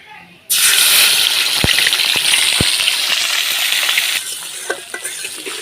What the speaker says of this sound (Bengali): পেঁয়াজ বাটাটা হালকা কষাই নিচ্ছি